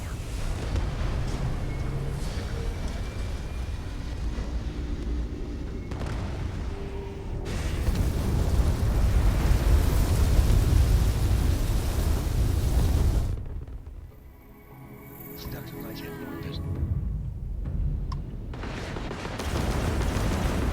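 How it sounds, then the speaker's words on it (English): A thunderstorm in the video game Starfield rolls on as a dense, heavy rumbling roar, loud and continuous, easing into a brief lull before surging back. "That's the sound I was hearing. Thunderstorm."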